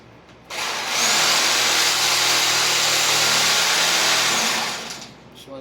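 A reciprocating saw shaves wood in one sustained, loud, close burst of harsh buzzing that starts abruptly, holds steady for about four seconds and then winds down.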